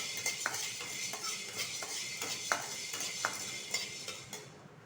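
A handful of black peppercorns dry-roasts in a pan, with a soft steady hiss and regular light scraping taps from a stirring spoon.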